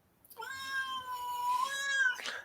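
A house cat meows once, a long, clear, drawn-out call rising slightly and ending in a brief breathy note, close and alone against a quiet background.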